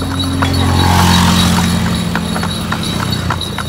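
Horse hooves clip-clop steadily on the road while pulling a sado horse cart toward Gundaling in Berastagi, with a rhythmic clatter under constant road and engine noise.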